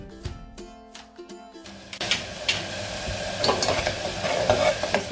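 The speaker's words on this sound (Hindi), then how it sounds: "मसाले को 2-3 मिनट तक अच्छे से भुने जाने दें।" Masala seasoned with chili powder fries in a pan for meat kofta, giving a loud, steady sizzle with repeated close scraping stir strokes after a brief tonal, pulsing sound at the start.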